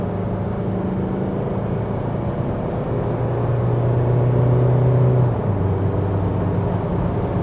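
An Isuzu 2.2 Ddi MaxForce pickup engine accelerating on a straight road in Buriram, a loud, steady low rumble that rises slightly before easing, with road and wind noise throughout.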